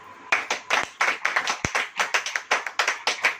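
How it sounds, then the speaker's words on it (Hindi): A church congregation claps at a worship service, a run of sharp, close handclaps that come in uneven bursts and fill the whole stretch. "पहले ताली बजाइए।"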